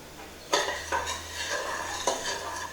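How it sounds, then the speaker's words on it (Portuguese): A spoon scraping and clinking around a saucepan while stirring sugar until it dissolves, a few brighter knocks against the side over a soft continuous swirl, close and fairly quiet. "Com uma colher eu vou mexer isso aqui até dissolver bem esse açúcar"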